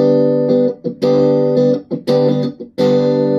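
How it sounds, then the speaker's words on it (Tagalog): Electric guitar played through its neck and middle pickups together, ringing out rich sustained notes in several phrases with brief pauses between them, loud and close, with no talk. "Neck tsaka mid pickup."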